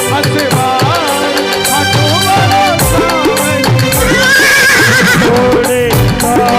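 A horse neighs and whinnies as a sound effect within a Khatu Shyam devotional bhajan, loud over continuous music with a repeated melodic line.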